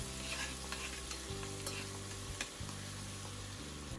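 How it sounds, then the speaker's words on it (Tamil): Finely chopped garlic sautés in a pan with fennel seeds, a steady close sizzle and frying hiss with occasional stirring scrapes, heard alone without talk. "நல்லா பொன்னிறமாக வர வர நல்லா வதக்கிக்கிறேன் நான்."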